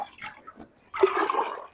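Water is poured onto young okra seedlings in a vegetable garden, a short soft splash and then a steadier, louder gush of water running onto the soil.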